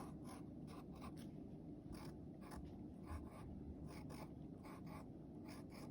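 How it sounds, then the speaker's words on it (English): Pencil or pen strokes on paper while flowers of a wreath are drawn, a steady run of short soft scratches and scrapes close by over a faint constant room hum, no talking. "And then we're going to draw some other different size ones."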